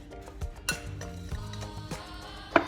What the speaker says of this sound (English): Just give it a quick stir with a spoon.